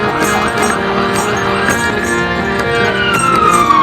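A siren wails steadily with a rising and falling tone, loud and continuous over busy Tel Aviv street background noise.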